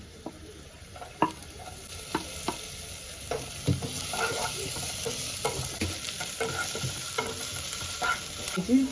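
Onions frying in hot oil in a pan, a steady close sizzle throughout with scattered clicks and scrapes as they are stirred, no talk.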